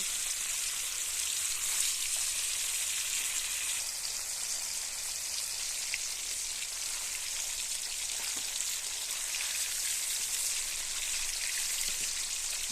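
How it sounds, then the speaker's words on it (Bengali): Paneer pieces fry in hot oil, producing a quiet, even, rain-like sizzle that holds steady throughout with only tiny pops and no speech. "এইবার পনিরগুলো ভেজে নেব"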